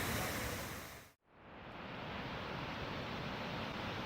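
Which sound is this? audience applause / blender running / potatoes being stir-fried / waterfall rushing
waterfall rushing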